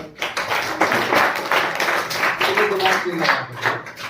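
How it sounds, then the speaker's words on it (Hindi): Students in a Hindi-medium science classroom clap together in quick, uneven bursts, fairly close, while a voice speaks briefly over the clapping. "हाँ ताली बजाओ भाई"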